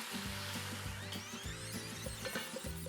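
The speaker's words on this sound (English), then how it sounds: "I'm gonna brown the first side, and turn it over, and totally brown the second side" Seasoned beef browning in a hot pan, a steady sizzle heard up close, overlaid by low tonal background music.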